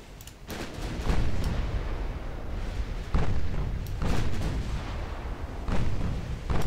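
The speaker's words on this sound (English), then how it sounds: "We have some torpedoes incoming." Torpedoes striking a warship in the naval battle game Ultimate Admiral Dreadnoughts, a dense, loud barrage of deep booms and thudding explosions rolling over continuous low battle rumble, with several heavier impacts spaced through it.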